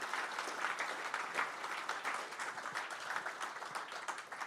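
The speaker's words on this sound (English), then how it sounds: "I'd like to everybody give a warm applause for all our pitchers tonight." An audience at a startup investment pitch night applauds the pitchers, a dense, steady wash of many hands clapping continuously with no voices over it.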